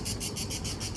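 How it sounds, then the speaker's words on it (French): A cicada in the old village of Mougins, France, buzzes in steady rapid pulses, loud and close, with a bright shrill rasp repeating about five times a second and no voices over it. "Une cigale."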